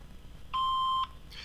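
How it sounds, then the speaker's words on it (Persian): A single loud answering machine beep, a steady electronic tone about half a second long, sounds right after an outgoing greeting message, with faint line hiss before and after. "Please leave your name and phone number after the beep."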